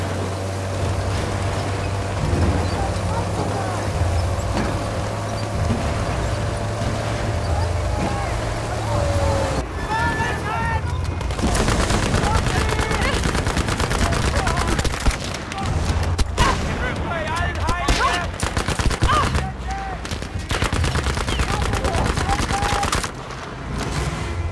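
Bursts of gunfire and explosive pops from the video game Battlefield V, loud and continuous over a rumbling engine-like drone, with dense crackling after the first ten seconds; a voice talks over it.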